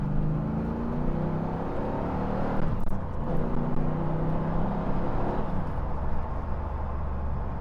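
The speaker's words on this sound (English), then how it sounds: "you can hear that larger intake just sucking in air, almost like it's supercharged, but it's not" A 1995 Callaway C8 Camaro's engine, drawing air through its large intake with a Hurst short-throw shifter in the cabin, gives a continuous throaty whooshing drone that swells slightly midway while driving.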